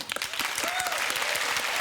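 A television studio audience bursts into dense, loud applause voting on lookalikes, a continuous wash of clapping with faint voices mixed in, sustained without a break.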